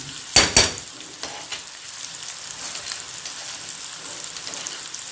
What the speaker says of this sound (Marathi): लसूण पण तेलातच टाका म्हणजे छान भाजतो लसूण